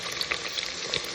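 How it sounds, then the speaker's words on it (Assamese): Chopped onions fry in a pan for a mutton curry, a steady close crackling sizzle with small pops scattered through it and no voices. "এয়া পিয়াজখিনি অলপ ব্ৰাউন হোৱালৈকে মই ভাজি ল'লোঁ"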